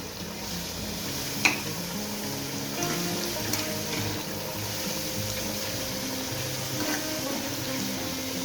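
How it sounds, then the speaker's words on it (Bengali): Leafy greens fry in a pan on a home stove while mutton cooks nearby, giving a steady, even hiss and sizzle with a few faint clicks and no talk. "ওই যে বেতর শাক ভাজা।"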